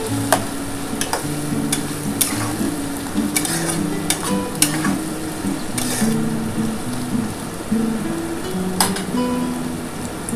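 Poppy seed paste thinned with a little water cooking in a pan without turmeric, giving a steady close sizzle with scraping stirring strokes and occasional sharp clinks across the whole stretch.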